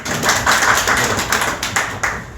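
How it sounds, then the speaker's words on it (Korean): Small meeting audience clapping to welcome a Seoul mayoral candidate, a short burst of close, fairly loud hand claps with a few distinct slaps, no speech. "박수로 모시겠습니다"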